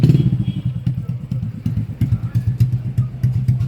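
A Yamaha NMAX scooter with ABS has its starter held, giving a rapid, rhythmic cranking thump that keeps churning close by for several seconds without the engine catching.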